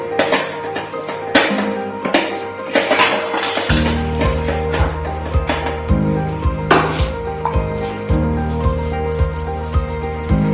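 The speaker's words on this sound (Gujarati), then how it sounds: "આવી રીતે આપણે બધા મસાલાને મિક્સ કરી લેવાનું છે." A spoon mixes potato masala filling for rava dosa in a pan, making repeated metallic clinks and scrapes against the pan in a steady rhythm, close and clear, with no talk.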